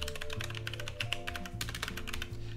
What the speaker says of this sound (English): If I could type today, that would really help things out.